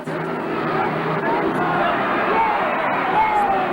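Speedway motorcycles race in a 1987 Polonia Bydgoszcz versus Start Gniezno meeting, a steady loud engine drone with rising and falling whine throughout, a crowd murmuring beneath and a commentator talking over it.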